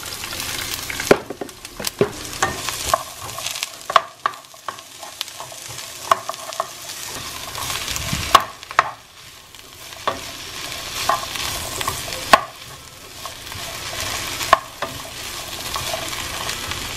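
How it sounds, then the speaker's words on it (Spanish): Seasoned meat, with chunks of ham, frying in a pan, with a continuous sizzle broken up by repeated scraping and stirring strokes and occasional knocks of the utensil. "Bueno, esto lo voy a sofreír."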